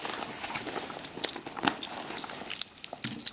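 Candy wrappers crinkling inside a handbag among keys and a transit card, with soft rustles and crackles and a few sharper crinkles near the end.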